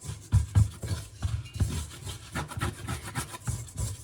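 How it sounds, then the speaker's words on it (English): No-knead rustic bread dough gets scraped out of a bowl by hand, giving a close, loud run of rubbing and scraping strokes in an uneven rhythm. "So I'm just gonna scrape it out with my hands."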